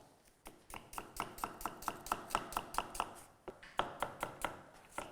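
Onions being chopped on a small cutting board: a fast, even run of crisp knife knocks, about a dozen in a row, then a brief pause and a second burst of chopping, close up with no talking.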